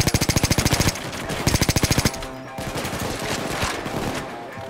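Rapid automatic gunfire in the heist shooter Payday 2, loud close bursts of evenly spaced shots that stop and start, then give way to a denser, ragged clatter of mixed fire and impacts.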